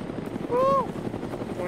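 A helicopter passes overhead in a mission, giving a steady whirring rumble under muffled background voices. A brief bright tone rises and falls midway.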